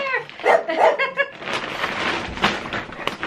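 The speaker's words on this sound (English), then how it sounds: "Right, that's what they were barking at." Several household dogs break into a quick burst of barks as someone arrives home from work, a few sharp close barks followed by scuffling noise and movement.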